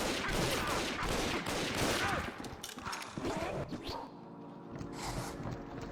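Gunfire from a shotgun-wielding character in a Bioshock multiplayer match, loud, dense bursts of shots in rapid succession, with a brief lull and further firing over a noisy game mix.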